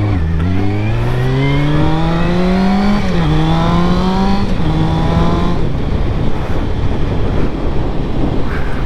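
Engine of a Ducati 1199 motorcycle on a road ride on a brisk day, climbing loudly through the revs in two rising pulls with a brief shift between them, then fading into steady wind rush across the microphone.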